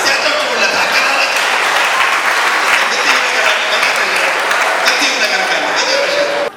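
An audience at a family program on Ethiopian television gives loud, steady applause that is close and continuous for over six seconds.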